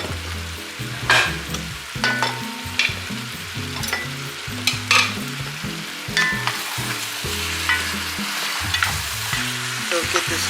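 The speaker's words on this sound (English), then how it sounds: "Now this turkey is going to render some more juices" Turkey wings for a Haitian stew sizzle and fry in a pot, a steady crackling hiss with scattered pops and occasional stirring clatter, close and clear with no talking.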